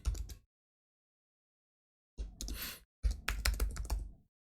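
Keys clatter on a computer keyboard in short bursts of quick taps, separated by silent pauses, close and fairly quiet.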